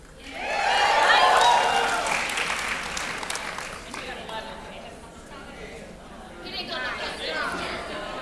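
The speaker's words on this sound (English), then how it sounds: "Even I got swept up in that and clapped" An audience at a live show in New York breaks into applause, swelling quickly to loud clapping and then fading into scattered claps and crowd chatter.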